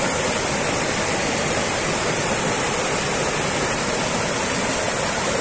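River water flowing steadily at a riverside spot in El Salvador, a loud, continuous broadband rush close to the microphone with no voices.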